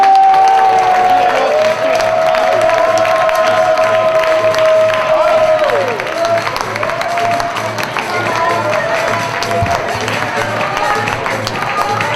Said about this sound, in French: On applaudit Harry.